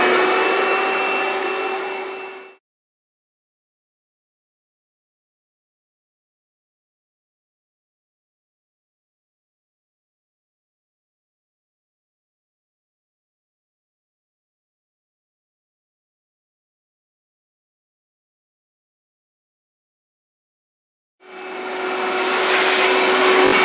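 A bagged vacuum cleaner sucks soot from a wood stove chimney, roaring loudly for a couple of seconds, cutting to a long silence, then starting up again near the end.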